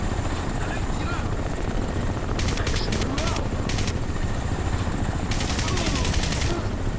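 In Crysis 1 Remastered, a hostile helicopter hovers with a loud, continuous rotor thrum while short bursts of gunfire crackle over it in two clusters. The noise is dense and close throughout.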